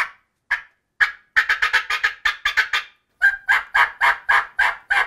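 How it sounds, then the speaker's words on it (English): Power Calls Cutter turkey call from the Short Circuit Series played in loud, aggressive bursts: a few spaced clucks, then fast cutting runs of sharp notes, a brief pause and a closing string of yelps, close and alone. "So now show us the Cutter call, a little louder in sound and a little more aggressive."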